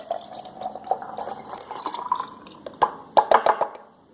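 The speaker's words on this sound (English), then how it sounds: "So mix my solution properly, then pour it in." Mulberry root solution being poured into lukewarm water, giving a run of drips and small splashes that build into a cluster of sharper liquid plops near the end, close and fairly quiet with no talking.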